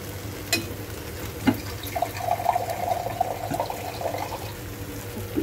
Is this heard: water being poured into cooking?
yes